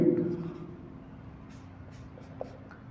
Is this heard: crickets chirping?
no